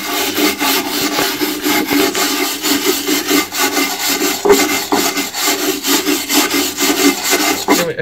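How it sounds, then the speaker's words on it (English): A wire brush scrubs rust and flaky paint off a machine in fast, rhythmic, close-up strokes that give a continuous, loud scratching. "Just going to wire brush the bits down, any flaky paint get off."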